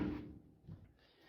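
The door of an International Scout is opened with a short metallic thunk and a faint second knock, close by and quiet.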